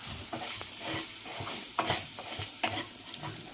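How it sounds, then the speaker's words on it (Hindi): Urad dal is stirred and fried in a pan, giving a steady soft sizzle with repeated close scraping strokes of a spoon in an even rhythm, and no one speaks. "और अब हम डाल लेंगे उड़द दाल को। अब अच्छे से कर लेंगे इसे हम मिक्स।"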